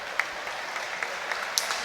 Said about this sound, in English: Jake Collins got a rapturous applause from the Neptune crowd.